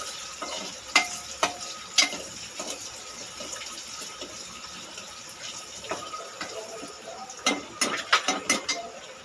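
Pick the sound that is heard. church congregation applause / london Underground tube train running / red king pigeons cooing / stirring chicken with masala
stirring chicken with masala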